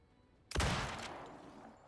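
A single loud gunshot in the survival game Icarus, a sharp broadband crack with a decaying tail, fired alone with no talk.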